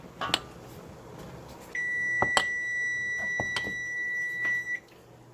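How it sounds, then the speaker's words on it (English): A steady electronic kitchen timer buzzer tone sounds for a few seconds while canning candied jalapeños, then cuts off, with faint clicks and kitchen clatter around it. "now that the buzzer has gone off"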